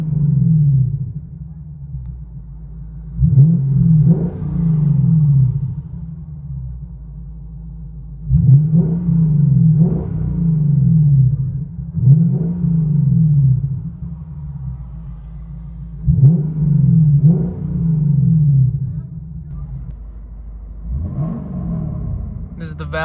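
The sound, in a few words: Lexus IS 500 5.0L V8 exhaust revving, heard from inside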